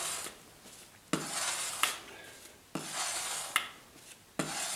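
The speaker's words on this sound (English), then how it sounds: "that's the noise my scraper is making" A painting scraper or palette knife scrapes up thin paint in short rubbing strokes, three or four near, dry scrapes with brief sharp onsets, quiet and alone.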